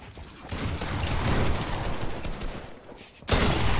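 Rapid gunfire from a Fortnite box fight, dense overlapping shots in a continuous loud burst, followed by a sudden sharp blast near the end.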